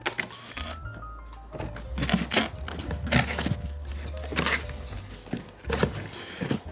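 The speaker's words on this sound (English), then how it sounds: "Apologize about the noise of the plastic here, the microphone." Plastic packaging crinkling and rustling close to the microphone while a Klipsch RSM-800 outdoor speaker is unpacked, with irregular crackly bursts and thumps over a low steady background hum.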